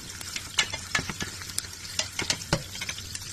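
Onions are sautéed in a pot for a crab and corn soup, giving a soft sizzle broken by quick clinks and scrapes as a utensil stirs them. The sounds are close and come in short, irregular bursts, with no voice.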